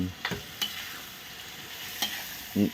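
Food stir-fried in a pan, a soft steady sizzle under a few distinct scraping strokes of a spatula, close but fairly quiet, with a louder knock near the end.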